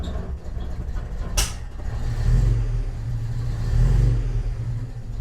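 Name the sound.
old car engine idling low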